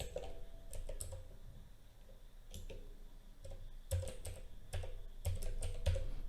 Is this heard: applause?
no